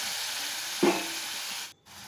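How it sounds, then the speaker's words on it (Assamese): Onions fry in oil with a close, steady bright sizzle, a brief louder clack of a utensil partway through, and a short drop-out before the hiss resumes. "এনেদৰে মই পিঁয়াজখিনি ফ্ৰাই কৰিম।"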